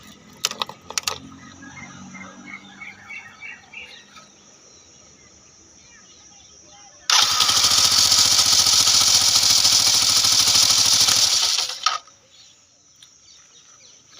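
Bajaj Platina motorcycle engine during a service, started and idling loudly for about five seconds in a steady close drone, then cut off, after quieter clinks and background birds.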